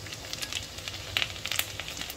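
Garlic sizzling in hot oil with whole spices like cloves, cardamom and cumin for a dhaba-style mixed vegetable curry, a steady soft fry with scattered faint crackles and pops, close and quiet.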